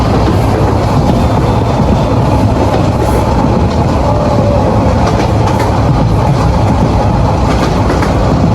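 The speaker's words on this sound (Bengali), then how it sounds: "জীবনের প্রথম ট্রেনে চড়ছি আজকে" A loud, steady rumble of a train rolling along the rails between Ramu and Cox's Bazar, heard from inside, with a constant low clatter and no pauses.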